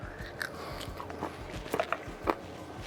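Close, crisp bites and chewing on crunchy smoked beef jerky flavored with soy sauce, chili flake and garlic, a few sharp crunches followed by softer wet chewing, quiet with no talking.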